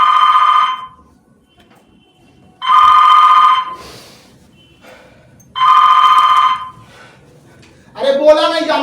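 A telephone rings on stage during a live Hindi theatre play, three loud, even bursts of electronic ringing separated by pauses, then a person starts speaking.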